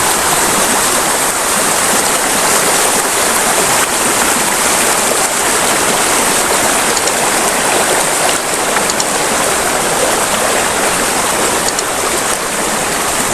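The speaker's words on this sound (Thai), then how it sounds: "เรามาถึงฝั่งแม่น้ำแล้วนะครับ" A riverbank stream rushes steadily and loudly throughout, a dense continuous wash of flowing water with no other sounds standing out.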